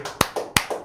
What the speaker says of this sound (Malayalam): ഒന്ന് ക്ലാപ്പ് ചെയ്ത് കൊടുത്തേ